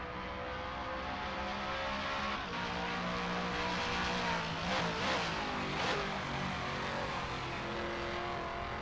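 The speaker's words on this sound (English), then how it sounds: "The echo of the exhausts, the rubber meeting road" Toyota Supra LM GT1 racing at Watkins Glen in Assetto Corsa: a steady, droning engine note with shifting revs and faint tyre noise, continuous and moderately loud, with no one talking.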